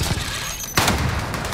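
Bursts of rapid gunfire ring out in Call of Duty: Warzone, loud and nearby, with a sharp volley cutting in midway.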